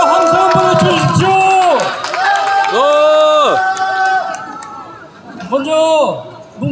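Protest crowd at a street rally against President Yoon Suk-yeol in Cheongju, South Korea, shouting a loud cheer together in several swelling, overlapping bursts of many voices.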